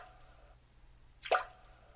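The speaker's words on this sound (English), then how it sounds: "the drops just continued to trickle out" A single water drop lands with a sharp, close plop after a quiet stretch of faint background tone.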